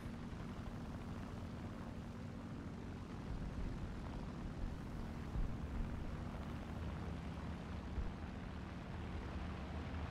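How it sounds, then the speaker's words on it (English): Propeller-driven German warplanes droning continuously in a World War II–style combat video game, a steady, loud engine hum filling the whole stretch with slight swells, no talk over it. "The planes sound fantastic."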